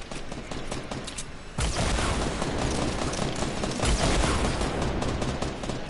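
Rapid Fortnite gunfire in Tilted Towers, dense bursts of automatic fire that swell louder partway through and keep rattling without pause, with no talk over it.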